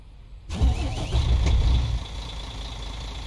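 A bus engine cranking and catching in Fernbus Simulator, a sudden start that swells into a loud rumble before settling to a steady idle, with no voices.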